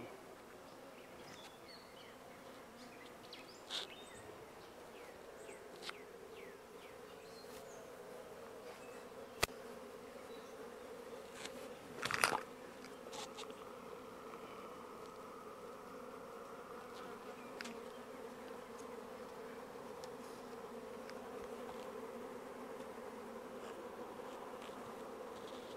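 A honey bee swarm hums around a hive box as bees fan, a faint, steady, continuous buzz with a few louder passes and brief knocks, no voices present.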